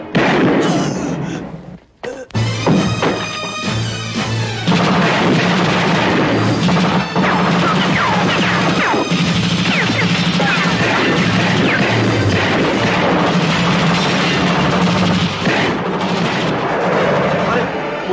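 Gunfire and crashing blasts in a Tagalog action movie: loud, dense bursts of shots and impacts after a brief drop, running continuously under a low rumble with voices talking amid the fighting.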